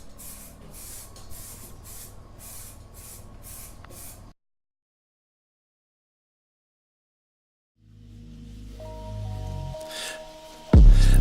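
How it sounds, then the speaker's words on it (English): A spray gun painting a Yamaha MT-07 motorcycle exhaust in a small homemade paint booth, hissing in short rhythmic bursts, then a silent pause before music starts and builds to a loud ending. "So we're gonna start painting."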